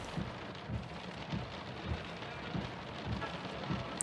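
Steady rain patters and hisses throughout, with low rhythmic thumps underneath, no voices.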